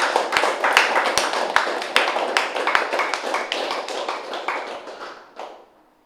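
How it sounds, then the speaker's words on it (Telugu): An audience applauds at a meditation gathering, a burst of loud, close clapping with distinct sharp claps that fades out after about five seconds. "గట్టిగా చప్పట్లు కొడదాం."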